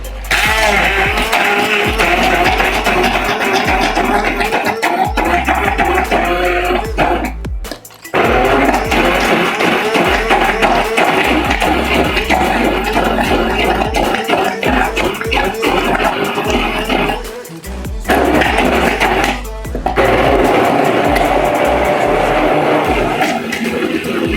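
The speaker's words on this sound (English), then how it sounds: "use the immersion blender." A loud, steady motorized whir of an immersion blender running continuously through lemon juice, with a couple of brief pauses where the motor cuts out.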